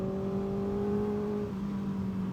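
Kawasaki sport bike engine droning steadily while riding on an open road, a sustained near whir with a slight pitch shift partway through, alone without talk.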